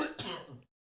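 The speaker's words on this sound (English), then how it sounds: "It was a cough." A single short cough or throat clear, close and fairly quiet, cut off abruptly into silence.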